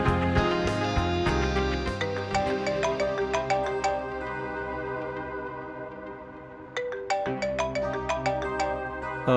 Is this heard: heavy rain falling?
no